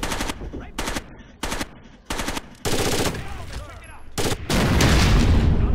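Rapid bursts of automatic gunfire in Rainbow Six: Vegas 2 repeat in short volleys, then a loud C4 explosion erupts and rumbles into a sustained, dense blast that fills the end.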